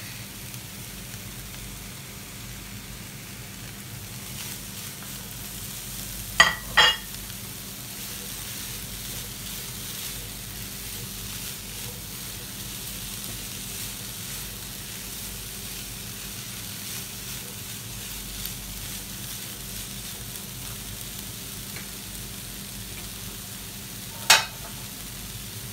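Capsicum stir-fried in a pan gives a low, steady sizzle throughout, close and fairly quiet, broken by a couple of sharp clinks of a utensil against the pan.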